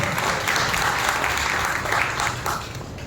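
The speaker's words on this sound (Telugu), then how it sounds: "చప్పట్లు కొట్టి బిగ్గరగా దేవుని భయపరచు" A Sunday worship congregation claps loudly in a dense, continuous burst of applause that fills the room for a few seconds before easing slightly, with no one talking over it.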